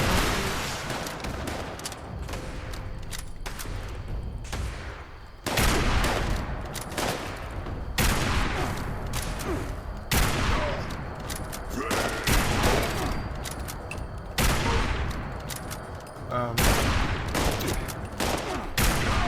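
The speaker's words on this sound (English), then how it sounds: "Are you trying to hit me with a rocket?" Rapid bursts of gunfire and explosive rocket blasts from a Fallout 76 firefight, loud and repeated in clusters across the whole stretch, with brief lulls between volleys and faint voices underneath.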